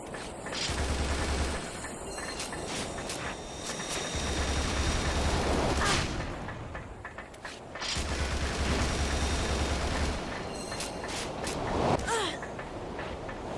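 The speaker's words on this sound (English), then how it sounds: "this machine gun is far better for dealing with them" Machine gun fire in the action game Bullet Witch, sounding as repeated loud bursts of rapid shots separated by short gaps, mixed with game effects and a spoken voice.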